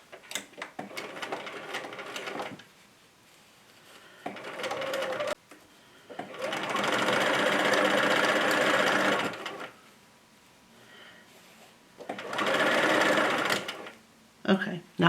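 A domestic sewing machine stitching a fabric potholder runs in several separate bursts of rapid, even whirring, with quiet pauses between runs and a voice speaking in the gaps.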